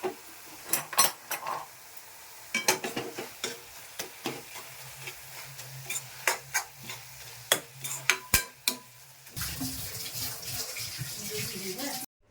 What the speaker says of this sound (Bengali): এখন ঢাকবো না, আমি খোলাই ভাজবো শাকটাকে